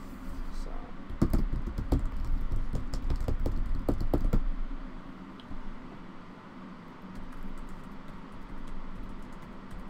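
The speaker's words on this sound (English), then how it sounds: "I'm just typing something out." Someone types on a computer keyboard, a quick run of sharp, close clicks and taps over a steady room hum, then fading into quieter background noise with occasional faint taps.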